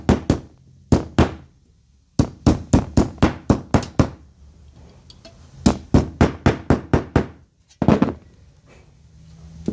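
Hammer blows drive staples into a homemade foam sander, landing in quick rhythmic bursts of about four to eight sharp, close, loud strikes with short pauses between groups.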